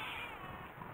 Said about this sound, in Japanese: あんたら普通の猫だね。